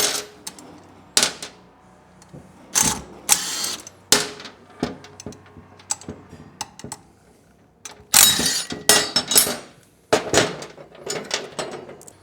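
A 12mm socket ratchet backs out cross member bolts on a 2024 Triumph Bonneville Bobber: close, sharp bursts of metallic clicking with short pauses between, and no talking.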